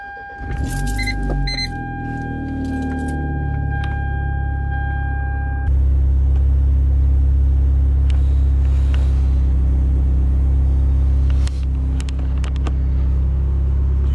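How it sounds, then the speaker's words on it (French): A car sits in a driveway, first idling with faint clicks and rattles, then the engine note rises and holds at a louder, deeper steady revving drone before easing slightly near the end; no one talks. "Si je donne du gaz, si je donne du gaz, ça augmente, c'est déjà bon signe."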